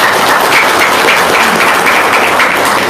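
A crowd claps continuously and loudly, a dense, even wash of applause with no voices on top.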